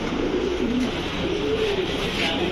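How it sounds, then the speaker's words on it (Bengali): A domestic pigeon coos softly and repeatedly at close range over a low background hum, with no talking. "খুব সুন্দর একটা কবুতর দর্শক দেখেন"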